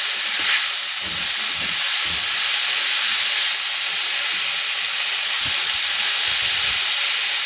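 Khesari (grass pea) greens are stirred and cooked in a pan, giving a steady, close frying hiss and sizzle that carries on without a break and has no talking over it.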